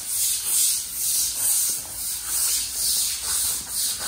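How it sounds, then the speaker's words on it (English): Rhythmic scrubbing of a concrete floor with a brush while degreasing it to prep for an epoxy coating, steady back-and-forth strokes about twice a second, close and alone. "Bob, scrub away."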